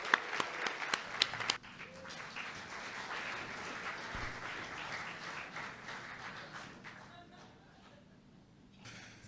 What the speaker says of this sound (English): You guys can applause as much as you want to.